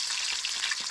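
Five small fish fry in a generous layer of oil in a pan, a close, steady crackling sizzle that continues without pause and with no voices.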